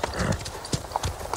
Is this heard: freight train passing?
no